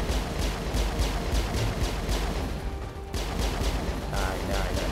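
Gunfire in Mass Effect: a dense, evenly spaced run of shots pounds on almost without pause, briefly thinning near the middle before resuming at full loudness.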